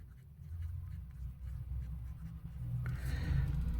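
A Pilot Vanishing Point fountain pen with a medium nib scratches softly across paper in short, close strokes, quiet and steady with no speech.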